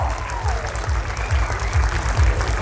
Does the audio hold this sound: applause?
yes